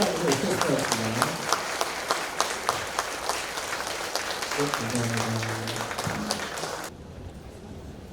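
An audience at the opening ceremony of the 2025 Incheon Open Port International Photo Festival applauds after an orchestra performance. Sustained crowd clapping continues under a host's voice and fades near the end.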